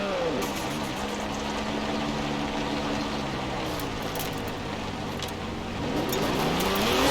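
Car engine in Forza Horizon 4 during free roam, a steady mid-pitched drone that rises and falls through gear changes, with revs climbing again near the end and no talking over it.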